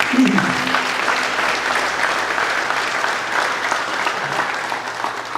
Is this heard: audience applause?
yes